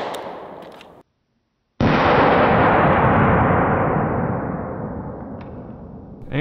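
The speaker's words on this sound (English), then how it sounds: "Shooting it out of the Smith & Wesson M&P shield." A .45 round fired from a Smith & Wesson M&P Shield pistol into a bulletproof vest on a torso: one sharp, loud blast after a short silence, with a broad roar slowly decaying over several seconds.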